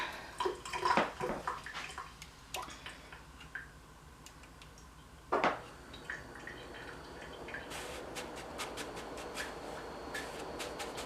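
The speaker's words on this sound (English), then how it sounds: "I'm going to rinse my pork chops before I dip them" Pork chops being rinsed under a running kitchen tap, a steady wash of water with scattered splashes, clicks and drips close by, and no talking.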